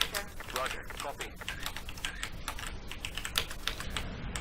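Rapid keyboard tapping on a computer keyboard used as game controls, mostly the number keys, in MechWarrior 4: Mercenaries, with a steady stream of clicks under game audio and faint voices throughout.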